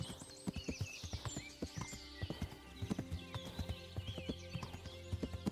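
Horse hooves clip-clop at a steady trotting rhythm in the video game Kingdom Come: Deliverance, with a snort or whinny mixed in and faint ambient music behind.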